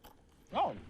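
A short, loud crunch of teeth biting into fresh coconut flesh at an outdoor food outing in Haikou, a single close bite arriving after a quiet moment.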